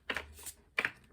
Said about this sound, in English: this is a good shuffle